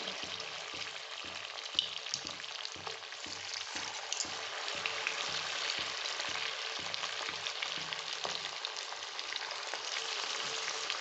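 Sooji langcha dough balls frying in hot oil, a steady close bubbling sizzle with soft rhythmic clinks and stirs at first that thin out, no voices.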